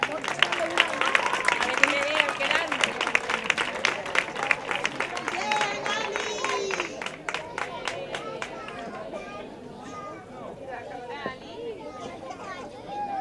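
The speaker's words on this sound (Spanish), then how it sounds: "Lekbal Ali, un aplauso." Children and families at an end-of-school-year ceremony clap in a lively burst that thins out, with children's voices and chatter running underneath and throughout.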